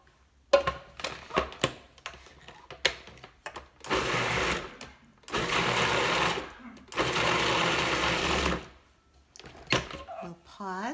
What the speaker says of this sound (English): And then I'm going to process again.